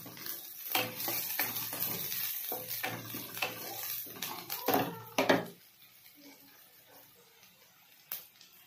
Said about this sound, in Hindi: प्याज पकेकी ताको टिके भाजवा, बस टिके हल्का भाजवा